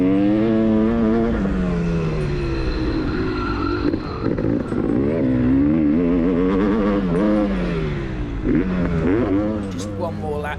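A big 600cc two-stroke motocross bike rides a lap, its engine rising and falling through repeated revs and shifts, loud and close, with a voice talking over much of it.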